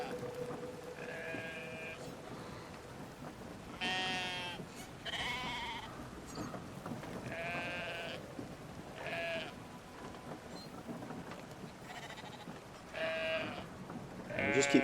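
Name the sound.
sheep bleating, carried by the older brother in the video game Brothers: A Tale of Two Sons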